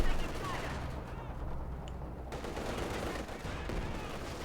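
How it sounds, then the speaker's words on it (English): Incendiary machine gun fire from an MG42 in the Company of Heroes 2 strategy game, a dense, steady rattle of rounds running the whole time under speech. "MD42 unleashing a tornado of incendiary rounds on the conference center, absolutely shredding them, ripping them apart"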